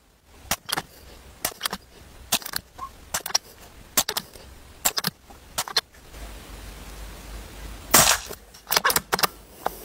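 Rifle shots fired free hand at a target, a series of sharp, loud cracks in uneven rhythm, some close together and some spaced apart, with quiet handling noise in between and no talk.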